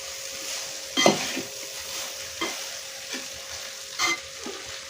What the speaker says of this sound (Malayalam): ചട്ടുകം കൊണ്ട് നന്നായി ഒരുപോലെ മിക്സ് ചെയ്ത് യോജിപ്പിക്കണം.